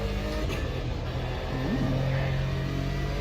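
Vertigo race car engine in the racing game AMS2, a steady rich drone with a mild rising rev near the middle, continuous and fairly loud with no voices.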